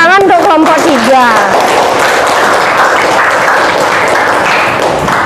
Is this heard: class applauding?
yes